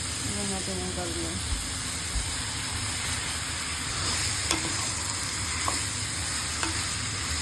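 Meat frying with onion, garlic and ginger in a pan, a constant hissing sizzle with a few sharp utensil clinks and stirring scrapes, close, with a voice speaking faintly at the start.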